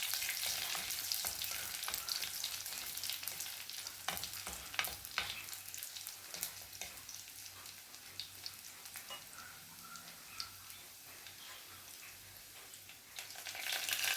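Drumstick leaves stir-frying in a pan with shallots and dried chillies for Kerala curry, a dense, crackling sizzle with frequent spatula scrapes and ticks, steady over a long stretch and heard close.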